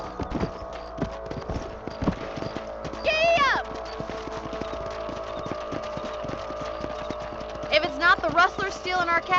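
Horse hooves in the video game Red Dead Redemption clip-clop in a steady, even rhythm throughout, with a couple of brief vocal sounds rising over the hoofbeats.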